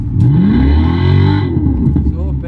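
A Renault RS car's exhaust revs up loudly and close, the engine note climbing in one sweep before easing off, with voices nearby.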